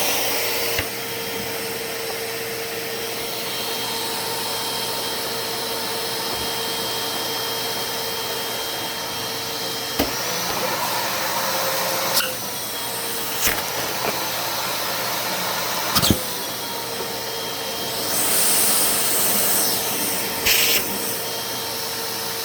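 A Craftsman 5-gallon 4.0HP wet/dry vacuum runs close and loud with a steady whooshing roar, broken by a few sharp clicks and knocks and a brief hiss of airflow change near the end.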